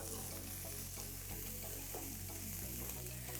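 Scallion, ginger, chili and garlic sizzle steadily in a hot pan, a dense continuous frying hiss with faint stirring scrapes, close and unbroken throughout.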